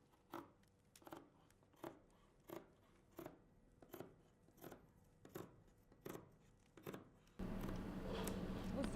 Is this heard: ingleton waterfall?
no